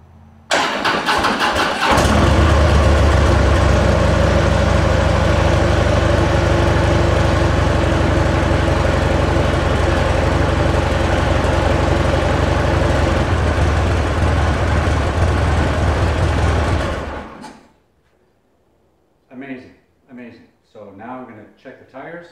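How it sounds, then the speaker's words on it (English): A 2016 Harley-Davidson FLTRU motorcycle cranks briefly, starts and settles into a loud, steady close idle for about fifteen seconds before shutting off, followed by someone speaking. "so let's see if it turns over."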